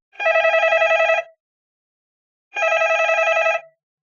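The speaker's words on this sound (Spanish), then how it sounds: "desde su cabina llamó al teléfono de recepción" A telephone rings in two long electronic bursts about a second each, separated by a pause of over a second, loud and close with silence between.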